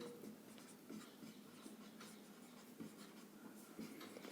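A pen writes on paper at a quiet close distance, soft irregular scratching strokes with small taps, alone without talk, while triangle proofs are worked out in a Class 10 maths lesson.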